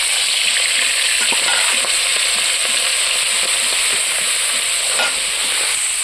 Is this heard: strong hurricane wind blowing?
no